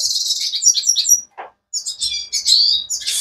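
Goldfinches chirp and twitter in quick high bursts close by, with a brief pause in the middle before the bright calls resume and overlap.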